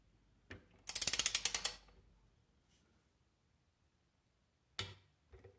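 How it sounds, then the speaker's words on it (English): Cheap Harbor Freight torque wrench tightening a bolt on a Lectric XP e-bike: a quick close run of ratcheting clicks, then quiet, followed by one sharp click and a faint tap, with no talking. "There's that click. You guys heard it?"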